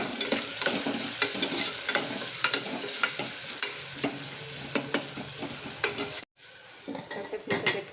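Ginger garlic paste and salt fry in oil in a pan, with a steady close sizzle and frequent scraping stirs; a brief silence cuts in near the end before the stirring resumes.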